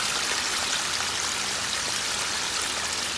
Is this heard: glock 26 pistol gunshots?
no